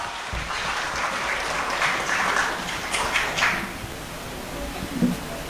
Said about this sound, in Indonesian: berikan tepuk tangan untuk paslon 3